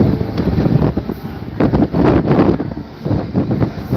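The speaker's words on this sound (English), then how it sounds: "It is a windy day, guys. It's a windy day." Blustery wind buffets the microphone outdoors at the Lone Star Rally motorcycle event, rumbling gusts rising and falling throughout, loud and close.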